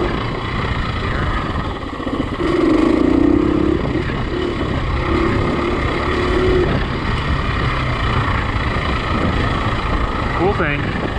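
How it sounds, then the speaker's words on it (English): A dirt bike engine drones steadily on a single-track trail along Colorado's Rainbow Trail, loud and continuous with a rough mid-range hum, while riders talk over it. "These bikes are so good that you can, you know, ride this kind of single track"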